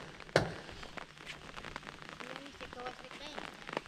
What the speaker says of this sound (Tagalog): Ayun, malakas na talaga yung ulan.